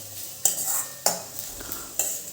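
Onion and carrot cook gently over a low flame, with a soft sizzle under a few distinct stirring clacks of a utensil against the pan, spaced about half a second apart.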